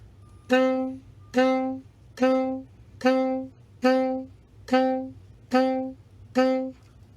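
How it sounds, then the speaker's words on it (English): Eight heavy, hard-attacked marcato notes on a band instrument, evenly spaced about 0.8 s apart, each with a strong punchy onset, a short sustain and a clear gap before the next; loud and close with no talking. "marcato is a heavy and hard attack"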